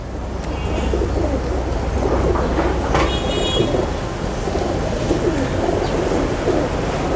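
Pigeons coo softly in a loft, low throaty calls under a constant broad noise like rain, with occasional higher chirps.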